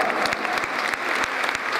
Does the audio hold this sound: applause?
yes